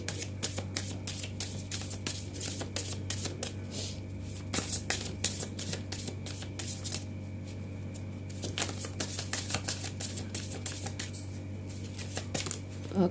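Tarot cards are shuffled in repeated quick riffling bursts, close and fairly quiet over a steady low hum, with brief pauses between rounds and no talking.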